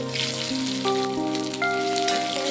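Chopped onion frying in mustard oil in a hot kadai, a continuous sizzling hiss running beneath louder background music with sustained tones.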